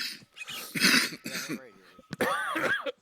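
Several rough coughs and throat-clearing sounds close to the microphone, coming in short bursts with pauses between them.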